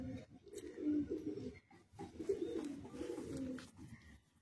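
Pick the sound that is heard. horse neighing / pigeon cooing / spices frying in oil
pigeon cooing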